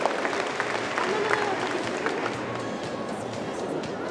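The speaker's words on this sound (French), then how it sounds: "Merci pour cet applaudissement, aussi un peu réservé pour le cheval de 4 ans" An audience at a dressage clinic claps in a brief, moderate round of applause for a four-year-old horse, a soft patter from a crowd that stays fairly even and fades slightly.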